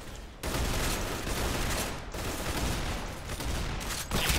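Gunfire in the Roblox shooter Arsenal pours out as dense, continuous overlapping shots at loud volume, with brief dips in the barrage.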